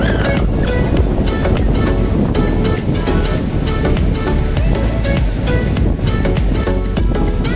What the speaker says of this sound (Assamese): ৰাতিপুৱা মানে সাগৰৰ পানীখিনি অলপ ওচৰত আহি যায়